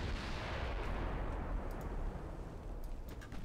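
Sustained heavy naval gunfire from battleship shells, including 18-inch guns, in Ultimate Admiral: Dreadnoughts, a dense rumbling barrage of booms that stays loud and continuous throughout with no talking.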